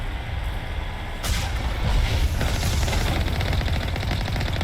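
Gunfire in the video game Mass Effect, rapid rattling bursts over a heavy engine-like rumble, loud and dense, growing stronger after the first second and continuing steadily.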